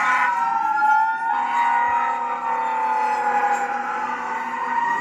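A fire department pumper truck's siren wails loudly and continuously in city streets, its pitch sweeping up and down over a low road rumble with no talk.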